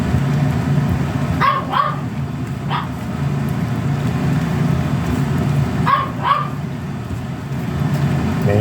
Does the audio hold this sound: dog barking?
yes